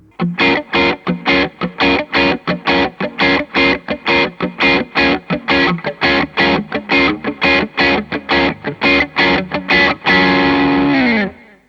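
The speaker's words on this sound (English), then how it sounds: "Same example with the silver modded Analog Man Tube Screamer" Distorted electric guitar through a silver modded Analog Man Tube Screamer overdrive pedal, playing a steady run of evenly spaced chugging chords that ends in a sustained ringing chord, loud and alone.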